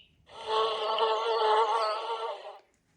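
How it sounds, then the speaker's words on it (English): A honeybee buzzes close by in a single steady drone that lasts about two seconds, then stops, heard alone against silence. "Honeybee."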